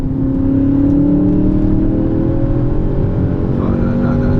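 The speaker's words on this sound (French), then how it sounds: "quand le moteur est dans la bonne plage de régime, il n'y a plus rien qui peut l'arrêter" Audi S car with a 571 hp engine accelerating from inside the cabin, a loud steady drone with a rising engine note that climbs gradually, heard without talk.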